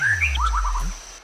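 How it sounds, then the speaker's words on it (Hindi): A short warbling whistle by a person, rising and falling in a quick run of bird-like notes, loud and close over a low rumble of background noise. "आपने सीटी क्यों बजाई?"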